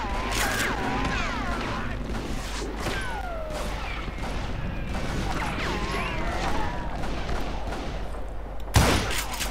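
Gunfire in the Western shooter game Call of Juarez Gunslinger, scattered shots under a busy mix of game effects and a talking voice, with one sharp loud blast near the end.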